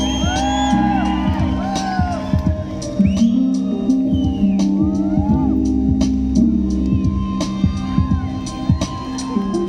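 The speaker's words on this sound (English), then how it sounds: "Round of applause, contestant number 1." A pageant audience at the Miss and Mr Ri-Bhoi college contest cheering a contestant, with loud whoops, yells and crowd noise rising and falling throughout and a droning musical bed below.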